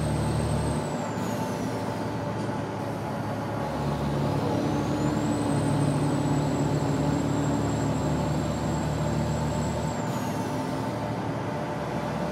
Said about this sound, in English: it makes it better when you have a little bit more realistic engine sounds